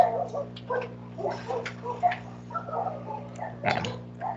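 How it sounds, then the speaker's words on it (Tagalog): Dogs barking and yipping at dawn in the distance, a scattered series of short faint calls over a steady hum. "Madaling araw kasi ngayon kaya naririnig niya yung mga aso."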